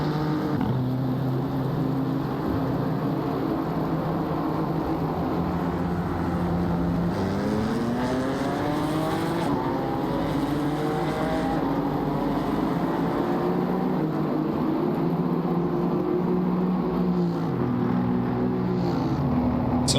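A BMW M6 race car comes into the pits at Kyalami circuit, its engine droning steadily. The pitch climbs, then falls away as it passes, over a constant wash of track noise.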